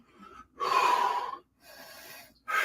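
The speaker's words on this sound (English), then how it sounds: "Stop fucking breathing, bro." Heavy, loud breathing close to the microphone, with a long forceful exhale followed by a quieter second breath and the start of a third, during a CrossFit Games show.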